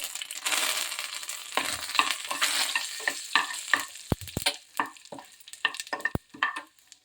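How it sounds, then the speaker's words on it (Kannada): Mustard seeds, cumin and curry leaves sizzle and crackle in hot oil, a loud spitting fry at first that breaks into sharp pops and scattered crackles, close by, with a few clinking hits and no voices. "ಸಾಸಿವೆ ಕಾಳು ಜೀರಿಗೆ ಸಿಡಿದ ನಂತರ ಕರಿಬೇವಿನ ಎಲೆ ಹಾಕೊಂಡು ನೋಡ್ರಿ"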